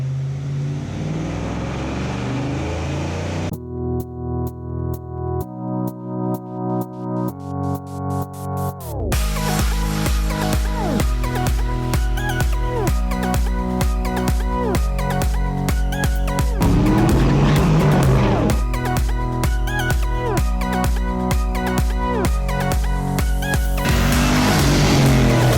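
A Fox Body Mustang fitted with a GT40 intake runs on a dyno, its engine note climbing through loud, repeated rev pulls and sustained high-rpm runs with steady harmonic drone and no voices.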